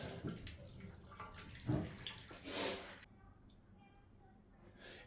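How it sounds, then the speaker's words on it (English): Tap water gushing after the supply is turned back on during a household leaky-tap repair, a loud splashing rush with sputtering bursts that cuts off abruptly, leaving quiet room tone. "Water comes out."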